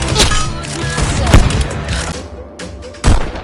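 Rapid pistol shots from the VR rhythm shooter Pistol Whip, loud and close in quick irregular bursts with sharp booming cracks over backing music.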